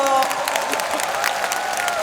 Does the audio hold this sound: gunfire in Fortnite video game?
no